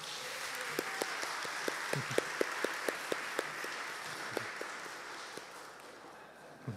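Audience at an annual holiday pageant applauds the characters, a steady wash of many hands with sharper individual claps standing out, sustained at even volume for several seconds and tapering slightly at the end.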